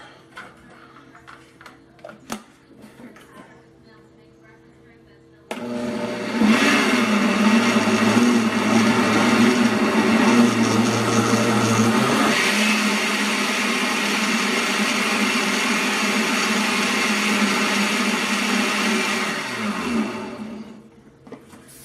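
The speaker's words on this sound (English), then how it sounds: "Now it's time to get these blended up." A blender purees cooked cherries, dates and habaneros for a glaze, starting after a quiet lead-in with a loud, steady motor whir that runs about fifteen seconds, its pitch shifting midway before it winds down.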